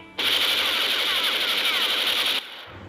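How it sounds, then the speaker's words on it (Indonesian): Sustained rapid automatic gunfire from a scene of the film Pengkhianatan G30S/PKI, a loud continuous burst lasting over two seconds before cutting off abruptly. "Naas, Jenderal Ahmad Yani justru ditembak mati di hadapan putranya."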